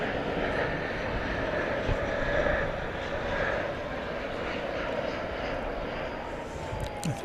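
An American Airlines jet taking off from runway 18 left at DFW airport in the evening, a broad, steady engine roar heard from a distance that holds level throughout.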